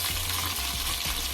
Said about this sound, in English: when my chicken breasts are all finished frying